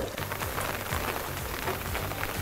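Steady rain pours down around a newly installed 1500-gallon backyard rain barrel, a dense, continuous patter of drops hitting water and surfaces nearby, with no voices.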